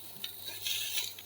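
Garlic, overfried, sizzles in a pan while being stirred and lifted out, producing faint crackling with soft scraping strokes at a close distance.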